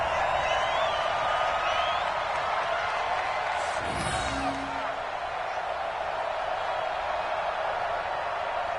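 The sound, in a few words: stadium crowd cheering in a football video game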